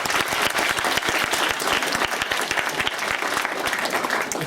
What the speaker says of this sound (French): je pense qu'on peut aussi applaudir pour ça